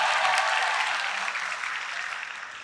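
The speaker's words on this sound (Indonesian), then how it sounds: "Tepuk tangan untuk semuanya." Sustained, dense applause from an audience at a government family-planning kick-off event, a bright wash of many hands clapping on its own, slowly fading a little toward the end.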